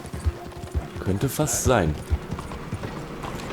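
Horse hooves clip-clop at close range on a city street in Red Dead Redemption 2, with a horse's snort mixed in and someone talking over the sounds.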